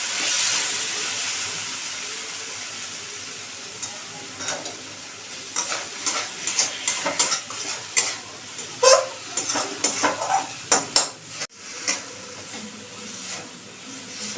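Salted tomatoes frying in a pan for a prawn fritter curry, a steady close sizzle with a spatula stirring and scraping in quick, irregular strokes that grow busier partway through.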